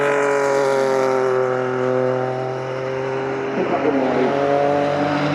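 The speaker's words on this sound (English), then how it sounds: "These are flat six-cylinder turbocharged engines, don't have the same revs of the V10s." Porsche 956 and 962 race cars with turbocharged flat-six engines drone loudly past on a demonstration run, a steady harmonic engine tone that dips slightly and then picks up again with a rougher edge.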